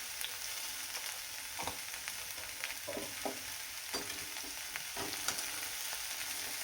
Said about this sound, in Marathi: आता आपण छान थोडा परतून घेऊयात एकदा.